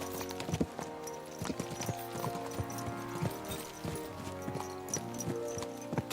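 Rhythmic hoofbeats of several horses galloping steadily in a medieval video game, with clattering clip-clops, occasional louder thuds and sparse background music, fairly quiet overall with no talking.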